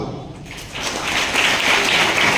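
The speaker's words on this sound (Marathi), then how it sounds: "ज्यांनी हातवर केला नव्हतं त्यांनी त्यांच्यासाठी टाळ्या वाजवा" School students clapping for their classmates in a group, scattered applause building from sparse claps into fuller, steady clapping over a couple of seconds.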